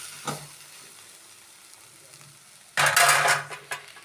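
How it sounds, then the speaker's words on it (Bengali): Fenugreek greens and eggplant frying in a pan, a faint sizzle with a brief stir at first, then a louder burst of crackling as the pan is moved, close by and without talk. "তো মেথি শাক বেগুন দিয়ে এদিকে বসিয়ে দিয়েছি।"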